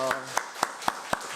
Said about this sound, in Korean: 예수님께 감사의 박수 올려드리겠습니다.